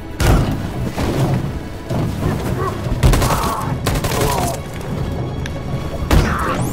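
Rapid video game gunfire during a quick time event, with sharp shots and heavy thuds bursting loud and close in uneven clusters across the scene.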